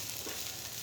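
Chicken pieces fry in a pan with their added ingredients, a steady soft sizzle holding at an even level through a short stretch.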